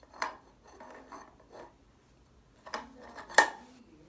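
A metal clamp fitted onto a scooter fork, heard as a few scattered scrapes and light metallic clinks, with one sharp ringing tap near the end, close and fairly quiet.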